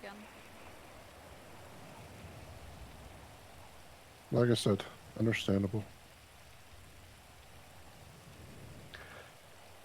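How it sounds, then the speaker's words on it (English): Steady rain falls as a soft, even hiss throughout, with a voice briefly speaking over it partway through. "But even with the rain, this view is nice."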